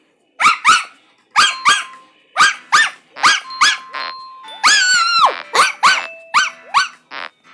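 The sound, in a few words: person imitating a small dog barking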